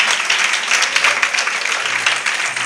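Congregation applause for a mother at a Malayalam Christian church service: dense, steady clapping from a sizable crowd filling the hall, moderately loud and continuous, with no speech over it.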